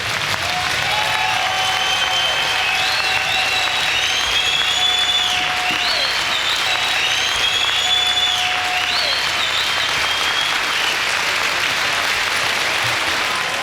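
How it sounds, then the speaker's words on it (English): A village crowd in Chapeau, Quebec claps for event organizers, sustained dense applause throughout with a few whistles rising above it. "giving them one of the biggest claps this village has ever heard"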